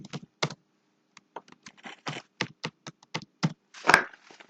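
Keys tapped on a computer keyboard while entering a short word into a pop-up window in Jacquard Draw design software, a quick irregular run of close, crisp clicks ending in a louder clattering burst.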